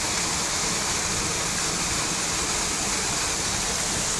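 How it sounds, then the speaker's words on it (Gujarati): Heavy monsoon rain pours down in a dense, unbroken roar, loud and close, with no voices. "વરસાદ પણ હજી પણ એટલો ને એટલો પડે છે"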